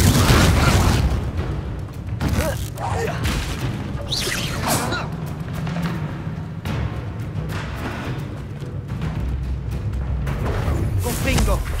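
Explosive Confringo spell blasts in Hogwarts Legacy, heard as repeated booms and whooshing bursts over a dense, steady wash of combat noise. A voice talks throughout the clip.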